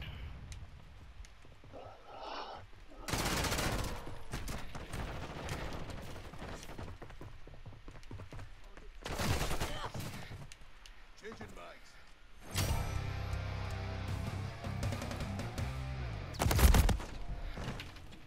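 Bursts of video game gunfire in a favela map, several loud rattling volleys spaced apart with quieter mechanical clicks between, and a voice talking throughout.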